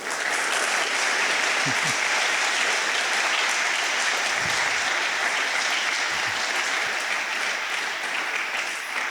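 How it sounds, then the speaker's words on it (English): Loud, continuous applause from an audience at a university philosophy lecture, thick and even for several seconds, with a few faint voices mixed in. "give her a round of applause for that"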